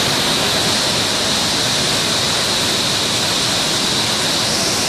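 Water rushes steadily through the channel of a horizontal-wheel grain mill, a dense, unbroken roar of flowing water heard close and loud with no talking.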